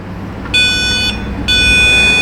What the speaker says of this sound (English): so it is beeping on the white wire, indicating that we have ground here